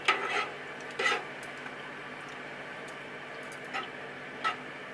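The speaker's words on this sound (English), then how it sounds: "So just dumping the whole thing in and then giving it a stir" Spinach being stirred into a pot of pasta salad gives a few soft scraping, clinking utensil strokes against the pot, spaced irregularly under a quiet background.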